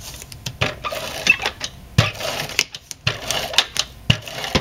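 An ATG adhesive gun runs tape onto paper album covers, giving a rapid series of close mechanical clicks and ratcheting rolls in irregular bursts, with brief pauses between strokes and no talking.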